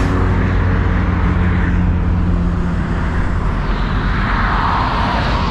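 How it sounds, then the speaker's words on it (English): Aeroplanes passing over a residential neighbourhood in Lang'ata, Nairobi, near Wilson Airport, heard as a steady broadband roar that swells toward the end amid road traffic noise. "Wilson Airport is close by, that's why you hear the sounds of aeroplanes passing"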